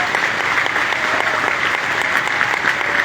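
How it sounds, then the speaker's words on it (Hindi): Thunderous applause from a large crowd at a foundation stone ceremony during a Kabir saint gathering, a dense, steady roar of clapping that holds throughout without a break. "ये शिलान्यास संपन्न हो रहा है तालियों के साथ, गड़गड़ाहट के तालियों के साथ"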